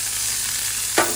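Small cubes of paneer fry in a hot pan with a steady close hiss and sizzle, joined by one short stir near the end.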